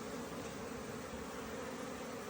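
Honeybees flying outside their hive on a warm, sunny mid-October day, a soft, steady, continuous buzzing hum with no breaks, faint and somewhat distant.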